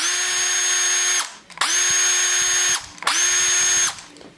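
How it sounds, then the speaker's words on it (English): A Porter Cable cordless drill runs at its first speed setting in three steady high-pitched whirring bursts, each stopping abruptly with a quick winding down between them, loud and close with no voices. "So now we'll just do like a sound comparison on all the same speeds. We'll put them all on one speed first. So here's the Porter Cable."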